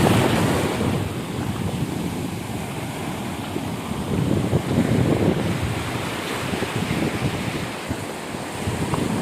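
Sea waves wash continuously onto the shore of an uninhabited Lakshadweep island, a loud rolling surf mixed with gusty wind buffeting the microphone, with no voices.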